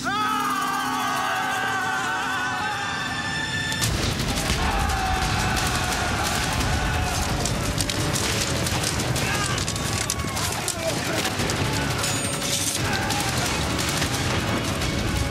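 Battle gunfire and artillery in a dramatized clash between royalist and patriot troops from Argentine history. A calmer tonal opening gives way to dense, continuous volleys of shots and heavy booms, with voices mixed into the din.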